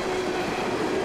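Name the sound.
freight train with EMD SD70ACe locomotives passing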